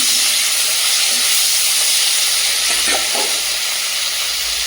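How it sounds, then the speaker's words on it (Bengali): Fish rubbed with salt, turmeric and chili frying in hot oil in a wok, a steady loud sizzle and hiss that fills the whole stretch, with a few faint clinks of stirring partway through. "মাছে লবণ হলুদ আর লঙ্কা মিশিয়ে রেখেছিলাম, ভেজে নেবো।"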